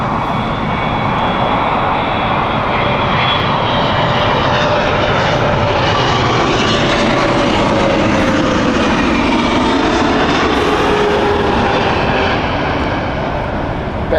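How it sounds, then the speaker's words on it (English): A Qatar Airways Boeing 777 at Heathrow Airport gives a loud, sustained jet roar that holds steady throughout, with a broad rumbling wash and faint whining engine tones drifting in pitch as it passes. "Here comes Qatar 777."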